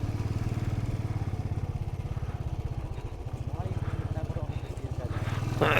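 A motorbike engine chugs with a steady, throbbing pulse as it climbs a steep Himalayan hairpin road near a 12,000-foot village, loud and close throughout, with voices talking over it.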